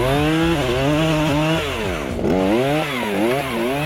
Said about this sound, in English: the new backpack chainsaw can make spacing physically easier and more efficient